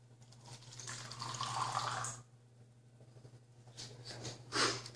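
Thick grass jelly drink poured into a cup, a soft wet trickling and splashing lasting a couple of seconds, then a quieter pause and a brief louder splash near the end, heard up close with a steady low hum underneath.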